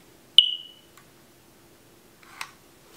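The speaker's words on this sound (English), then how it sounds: "I disconnected the wires and this thing is still beeping." A single sharp electronic beep rings out and fades, followed after a pause by a softer, noisier chirp.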